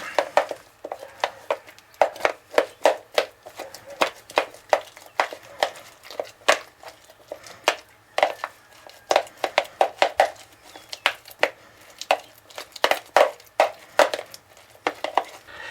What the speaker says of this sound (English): We're going to add 1 large avocado to a bowl. I'm going to use this spoon to smash it up.